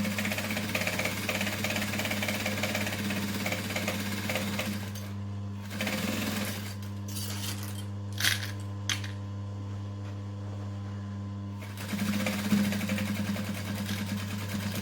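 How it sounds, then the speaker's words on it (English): A sewing machine runs a clutch bag seam with a back stitch, humming steadily and close up, with a few short pauses and small clicks midway as the work is handled, then the stitching picks up again. "We're going to back stitch at the start and then pull the clips off as we go"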